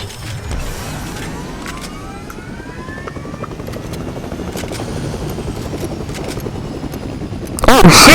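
Helicopter in an online battle video game, a steady mechanical rotor whir with creaking and clanking running throughout, growing louder with a sharp burst near the end.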